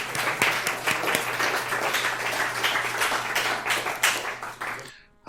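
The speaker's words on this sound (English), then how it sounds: "let's give him a round of applause anyway" A conference audience applauds steadily for about five seconds, dense clapping from many hands filling a room, then stopping abruptly.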